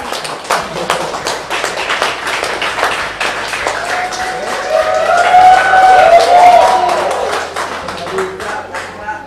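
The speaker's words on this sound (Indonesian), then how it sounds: "Boleh kita beri tepuk tangan" Applause at an award ceremony in Jakarta, with scattered close hand claps rising and thickening midway, mixed with talk and a brief tonal whistle-like sound over the clapping.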